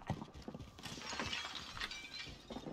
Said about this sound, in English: I hear so many glass breaking.